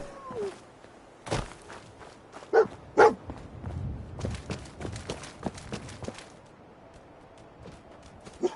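Dogmeat, the German Shepherd companion in the video game Fallout 4, gives a few short barks and yips over footsteps and light game ambience, with a couple of louder bursts near the start.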